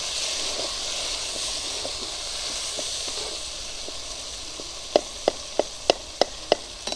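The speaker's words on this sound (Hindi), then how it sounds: "तो इसके अंदर टमाटर, हरी मिर्चें शामिल करेंगे, और 3 से 4 मिनट अच्छे से इसको भी फ्राई कर लेंगे।" Tomatoes and green chilies fry with browned onions for a fish curry, giving a steady loud hiss and sizzle, with a run of sharp spattering pops toward the end.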